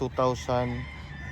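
Chickens on a farm housing mixed gamefowl bloodlines, with a rooster giving a short, close crow alongside a couple of loud clucks, brief and clear.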